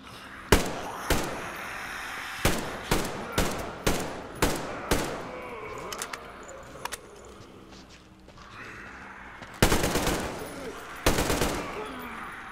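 Sharp gunshots in the video game Metro Exodus ring out one after another in a quick series, then fall quiet before two louder, heavier bursts of fire.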